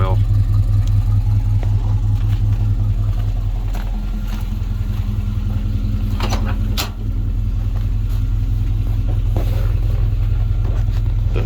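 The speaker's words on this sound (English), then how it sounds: "This engine's really worn out." A worn, oil-burning engine in a 1984 Chevrolet C10 stepside pickup idles steadily close by, a low continuous rumble with faint ticking, while someone talks over it.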